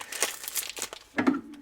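Tape being peeled and crinkled off a knife package, a few short crackling rips close up, with a louder tearing burst near the end.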